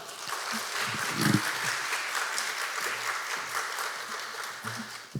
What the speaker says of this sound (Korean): 우리 큰 박수로 하나님께 감사 박수 드리면서 모시도록 하겠습니다